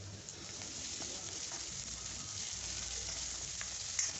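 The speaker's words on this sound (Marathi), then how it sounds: "लाल होईस्तोवर ते फ्राय करून घ्यायचं." Onions and spices fry in hot oil in a pan for a besan sabzi, a steady, even sizzle that runs throughout at moderate loudness, with no voices.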